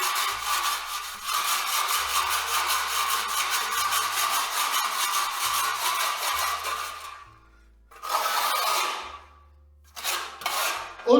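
A steel trowel scrapes high points off a hardened, still slightly soft surface, giving a steady rasping scrape for about seven seconds, then shorter bursts of scraping after brief pauses, close and fairly loud.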